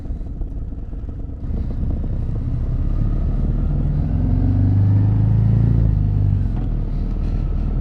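Harley-Davidson Road Glide motorcycle engine rumbling steadily while riding, a deep continuous low drone with a slight rise in intensity midway, no talking over it.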